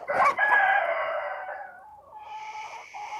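A rooster crows loudly and close, fading into softer clucking from chickens of the Brescia breed in a farmyard.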